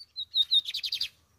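A lined seedeater sings a short, close, loud phrase: a few clear high whistled notes followed by a rapid run of buzzy chirps, ending after about a second.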